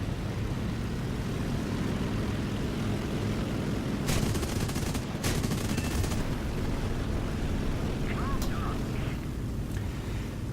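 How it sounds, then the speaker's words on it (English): Ho-103 machine guns firing through the propeller of a Ki-84 fighter in War Thunder, heard as short rattling bursts over a steady loud engine drone. "Ho-103 machine guns are pretty ineffective, as are most Japanese 50 cals when being fired through the propeller"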